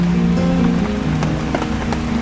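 Steady, close rain pattering on a surface, a dense hiss dotted with individual drop ticks, with a low hum running underneath.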